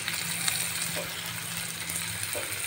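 Ginger, garlic and cumin paste with turmeric fry in a pan for a bean dish, giving a steady, close sizzle with a constant hiss and a faint low hum throughout.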